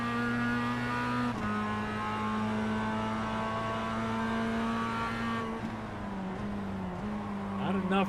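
Mazda touring race cars on the Okayama circuit, engines droning in a steady high-pitched whine that shifts down as they draft close together, with a commentator talking over the noise.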